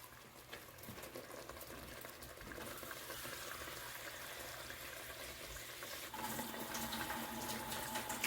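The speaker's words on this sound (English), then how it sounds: "we're gonna put in 8 cups of water to 4 cups of rice" Water pours steadily into a cooking pot for rice, a broad, continuous splashing rush that swells louder near the end, with no talking.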